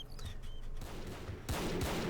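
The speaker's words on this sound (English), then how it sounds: "It looks like that cannon absolutely is working." WW1 battlefield in a video game with cannon and gunfire, distant muffled firing rumbling faintly beneath a sharper, louder burst of shots near the end, no voices.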